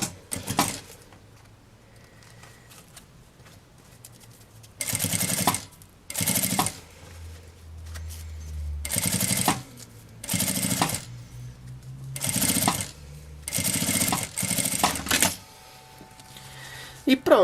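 Sewing machine stitching bias binding along the edge of a fabric notebook cover, running in several loud bursts of rapid mechanical clatter with short pauses between them, and a quiet voice talking in the gaps.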